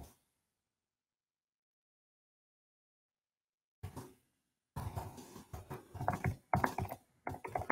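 Fingers typing on a computer keyboard in an office-software setting: after a long silence, a short burst of clicks, then a denser run of quick, close keystrokes with uneven rhythm.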